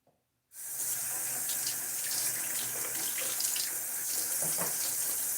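Tap water runs steadily into a sink while a razor is rinsed after shaving, a close, continuous splashing rush that starts abruptly after half a second and continues without talk.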